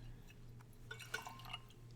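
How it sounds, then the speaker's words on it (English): A 2019 Saperavi red wine is poured from a decanter into a glass, giving a soft, brief trickle with light drips and a faint glassy ring, close up and quiet. "I've had this in the decanter here as we were getting ready for the episode. So I'm going to pour you some there."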